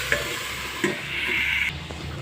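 Vegetables are stirred in a pan over a steady sizzle, with a couple of distinct spatula knocks and scrapes close by and a brief rising hiss of frying; no one speaks.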